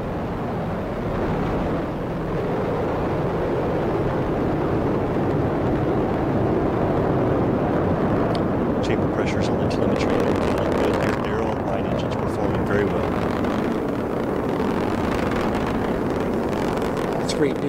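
SpaceX Falcon 9 rocket with nine Merlin engines at full thrust climbing after launch, a sustained rumbling roar with crackling bursts midway, steady and loud throughout, with voices faintly present under it.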